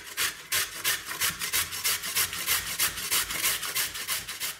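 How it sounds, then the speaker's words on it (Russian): A piece of pumpkin is rubbed over a fine kitchen grater in quick, regular strokes, each one a soft, close scraping rasp that repeats steadily with no voices. "Теперь берем кусочек тыквы, я на такое количество мяса беру примерно 100 грамм, но не больше, и на мелкой терке натираем."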